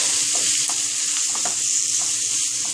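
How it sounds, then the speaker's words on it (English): Ground beef fries in a hot pan on medium heat, a steady close hiss of sizzling throughout with faint scattered crackles and a few soft stirring taps. "I put it on the hot pan. It's on medium heat right now."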